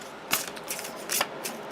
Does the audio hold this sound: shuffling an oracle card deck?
yes